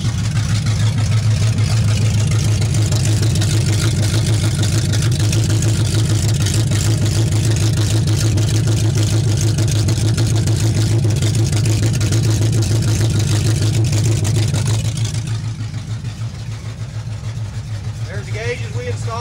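A 1970 Chevy Nova engine runs with no mufflers, a loud, deep, throbbing rumble close by that holds steady for about fifteen seconds before dropping to a softer idle.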